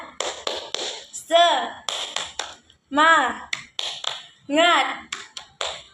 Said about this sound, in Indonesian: Nah, tahu kan tepuk semangat kita, tepuk semangat?